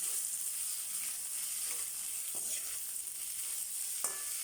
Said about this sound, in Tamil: வெங்காயம் நல்லா பொன்னிறமாக வர வரைக்கும் நல்லா வதக்கி விட்டுக்கோங்க.